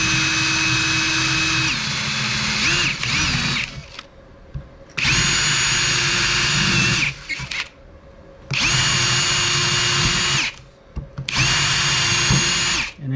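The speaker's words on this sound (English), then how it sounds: "Okay, so we're going to drill the holes." A power drill bores holes into a wooden hole-drilling backing board while making Christmas trees, four loud whining bursts of a few seconds each, separated by short quiet pauses, with the motor pitch sagging as the bit bites into the wood.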